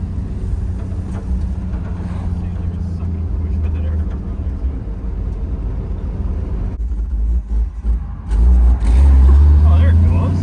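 An old 1937 Nash car engine turns over and runs with a rough, steady low rumble and a brief surge near the end, while people talk nearby.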